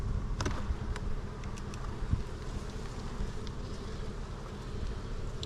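Honey bees swarm around an opened hive during fall splitting in West Texas, a dense, steady buzz hanging close and continuous with occasional louder passes of individual bees near the microphone.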